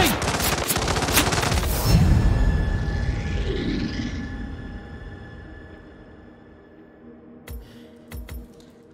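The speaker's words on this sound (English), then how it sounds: "Help! They're shooting!" Rapid automatic gunfire in the stealth video game Hitman, a dense close burst of shots for about two seconds that fades into a lingering tail, followed by a few scattered thuds.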